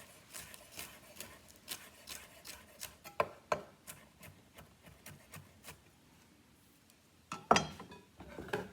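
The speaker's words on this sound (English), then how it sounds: "I'm going to take some of the leaf that's on the top and just cut that for part of our garnish" A knife cuts celery leaves on a cutting board, a close series of quiet, irregular chops and taps with a louder cluster near the end.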